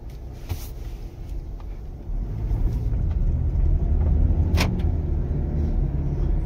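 A Toyota Camry engine pulls away in drive, a low steady rumble that swells about two seconds in and holds, with a few faint clicks and knocks inside the car.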